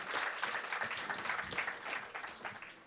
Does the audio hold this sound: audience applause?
yes